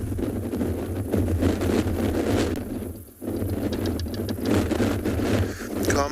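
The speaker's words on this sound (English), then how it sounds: "Wind is picking up considerably now" Wind gusting outdoors during an afternoon safari game drive in South Africa, a steady broadband rush buffeting the microphone, with a brief lull near the middle before it picks back up.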